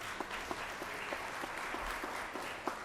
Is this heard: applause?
yes